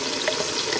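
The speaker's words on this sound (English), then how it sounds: "dump the whole can of tomatoes in." A can of tomatoes tipped into a hot pan of homemade sauce gives a loud, dense sizzle and bubbling splatter, briefly and close, with no one talking.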